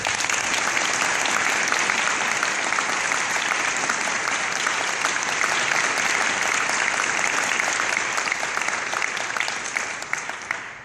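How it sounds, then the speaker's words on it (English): An audience at an ACUTA professional association gathering in 2014 breaks into loud, sustained applause. The dense clapping holds steady throughout with no voices over it, then tapers off at the very end. "Please take this time with me to applaud Ron's year in service"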